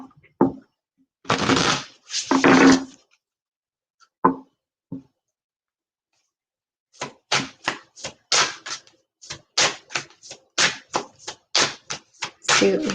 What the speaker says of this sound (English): Okay, just one more shuffle here.